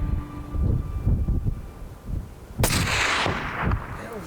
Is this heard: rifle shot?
yes